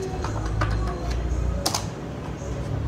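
Quick tapping of keys on a computer keyboard while a Google search is entered, soft clicks scattered across the stretch with one sharper burst near the middle, over a low steady background.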